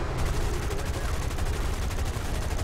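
Aircraft machine guns firing in a World War I dogfight video game, a dense, continuous rattle of rapid shots over steady engine drone, loud and close throughout.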